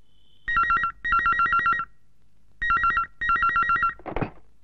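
A telephone rings during an outgoing call: two pairs of trilling electronic ring bursts separated by a pause, followed by a brief noisy click.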